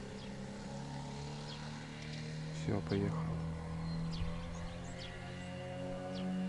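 A small, compact outboard boat motor runs at mid revs on floodwater near stilt houses in Komi, a steady low drone with brief louder bursts, while someone speaks over it.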